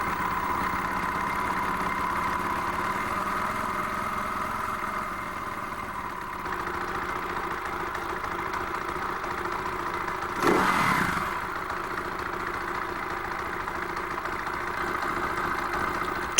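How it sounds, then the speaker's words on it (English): Steady, close idle of a warm Husaberg motorcycle engine from 2000, a constant low mechanical hum with a short burst of louder noise around the middle before settling back to the even idle. "Adjust for smooth idling when the engine is warm."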